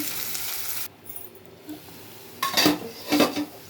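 Minced meat (keema) drops into a pan of onions, a soft sizzle of frying followed by a few clinks and scrapes of a spoon against the pan.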